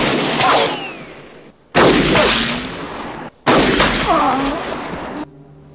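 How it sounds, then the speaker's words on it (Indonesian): Gunshots from the western film Unforgiven, three loud sharp blasts spaced about two seconds apart, each trailing into a long echoing decay, with a gritty outdoor ambience between them. "Akhirnya Will berhasil menembak koboi tersebut dan tembakannya mengenai lambung."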